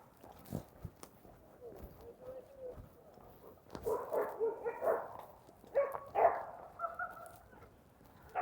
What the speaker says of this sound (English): look at the other bigger dog.